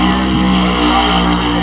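A Camaro drag car sits in the burnout box, its engine roaring loud and steady with a droning, constant tone.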